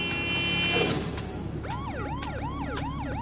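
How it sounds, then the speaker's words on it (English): A police car siren wails on an emergency call, its rising and falling sweeps repeating steadily and loudly over road and traffic noise, with no talking. "This police car is responding to a call with its lights on and siren blaring."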